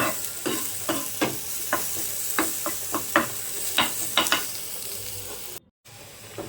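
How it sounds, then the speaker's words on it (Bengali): Potatoes browning in hot oil in a pan for a Bengali alubhate dish, with a soft continuous sizzle punctuated by repeated close spatula scrapes and stirs at an irregular rhythm. "তো সেক্ষেত্রে খুব ভালোভাবে ব্রাউন করে একদম ভেজে নেবো"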